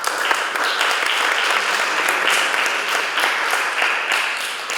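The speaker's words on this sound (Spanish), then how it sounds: "Les pido un fuerte aplauso para ellas." An audience at a book presentation claps firmly and evenly for several seconds, a dense sustained applause with no speech over it.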